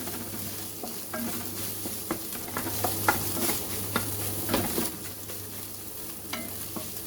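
Pork fried rice stirred and frying in a pan: a steady sizzle with repeated scraping and clinking of the utensil against the metal, close up, with no talking.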